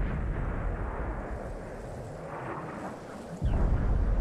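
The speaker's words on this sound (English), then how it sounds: "you see my teammate's artillery shell come in and miss, and that was mine" In World of Tanks on Xbox 360, an artillery shell from a T92 American artillery vehicle lands and misses, a muffled rumbling game explosion that ends in a sharp, loud low boom, with no talk.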